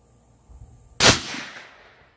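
A single 450 Bushmaster rifle shot from a long barrel with no muzzle brake, fired near a chronograph: one sudden, very loud crack after a quiet lead-in, followed by a rumbling tail that fades over about a second.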